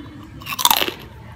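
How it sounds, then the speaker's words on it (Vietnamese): A single sharp, loud crunch of biting into deep-fried crispy pig skin, close up, followed by a brief crackle as it breaks, with no talking. "Quay gần lại đây cho các bạn nghe cái tiếng cắn này."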